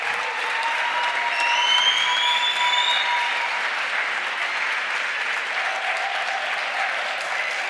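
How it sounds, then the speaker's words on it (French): Hall audience of several hundred at an evening engagement gala giving a long, steady round of applause, dense continuous clapping with faint whistles rising over it. "Vous pouvez leur faire un tonnerre d'applaudissements."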